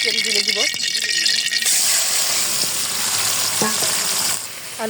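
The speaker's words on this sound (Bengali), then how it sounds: "কড়াইতে তেলটা গরম হয়ে গেছে এখন আমি আলু" Potatoes go into hot oil in a wok after a moment of talk, setting off a sudden loud, hissing sizzle that roars on steadily, with a few clatters of stirring.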